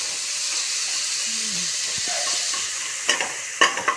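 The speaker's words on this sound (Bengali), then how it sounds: "2-3 মিনিট ভেজে নিলাম।" Falui fish frying in oil while being stirred, a steady broadband sizzle throughout with a few sharp spatula scrapes and knocks near the end, close and moderately loud with no talking.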